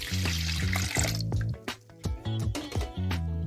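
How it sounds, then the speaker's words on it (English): Lemon juice is poured into a pitcher for homemade lemonade, a close, wet splashing and dribbling stream with a few drips as the pour tapers off. "Now to my pitcher, I'm going to add in my lemon juice."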